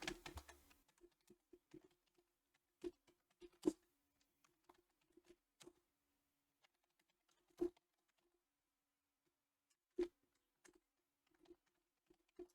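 Scattered keystrokes on a computer keyboard, quiet and irregular, with a few sharper taps standing out in an otherwise silent room.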